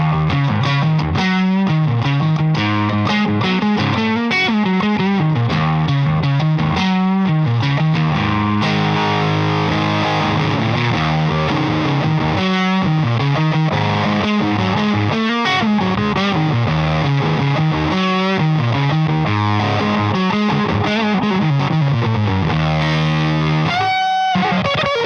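Electric guitar run through a fuzz pedal, thick distorted tone leaping across wide octave-spaced intervals in a continuous loud phrase with brief pauses.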